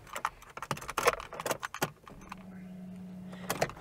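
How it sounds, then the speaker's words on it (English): Keys jangling and clicking into the ignition of a Nissan 180SX drift car, a cluster of sharp metallic rattles up close followed by a steady low electrical hum. "If I just pop the keys in"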